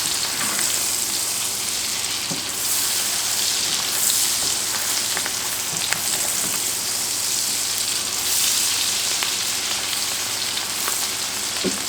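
Kielbasa and zucchini stir-frying in a pan, giving a steady, close, loud sizzle with a crackling hiss and occasional faint clicks from stirring.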